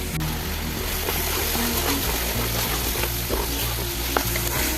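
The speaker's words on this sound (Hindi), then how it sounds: "चिकन को इस तरह भूनने से इसमें काफ़ी ज़्यादा टेस्ट आएगा।" Chicken pieces browning in a pot for soup, a loud, dense, continuous sizzle close up, with a low steady hum beneath and no talking.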